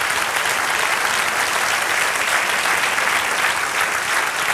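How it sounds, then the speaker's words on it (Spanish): Church congregation at a Spanish-language service giving a loud, sustained round of applause, a dense continuous wash of clapping holding steady throughout without pause. "¿Por qué no le damos un aplauso fuerte al Señor?"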